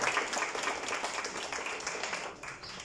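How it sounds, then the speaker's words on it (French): Audience applause at a sustainability forum in Mauritius, a steady dense patter of many hands clapping together at moderate distance, sustained throughout before easing slightly near the end. "Donc, tout le monde vous applaudit ici"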